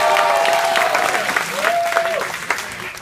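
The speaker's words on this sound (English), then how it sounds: "Give him a round of applause!" Audience clapping at a corporate dinner and dance for a company's staff, a short burst of applause from a crowded banquet room that fades as a voice speaks over it.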